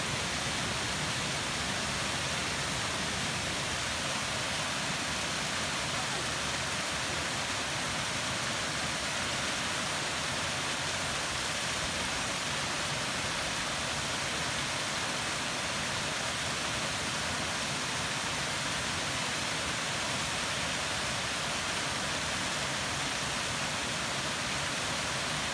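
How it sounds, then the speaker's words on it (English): A waterfall at Aira Force in the Lake District roars as a steady, broadband rush of falling water, continuous and even throughout, heard from a distance with no voices. "One of the waterfalls from the other side."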